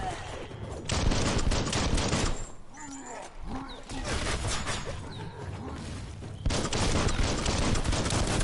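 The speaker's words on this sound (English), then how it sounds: "He's using the shotgun, no slugs." Shotgun blasts in the Biomutant video game, loud bursts broken by a quieter stretch of game sounds, then more dense firing toward the end.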